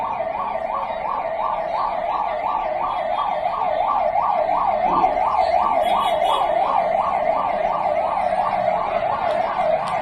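Wailing ambulance siren rising and falling in a steady, rapid cycle throughout, loud and close over a continuous background of crowd and road noise at a party rally in Vikravandi.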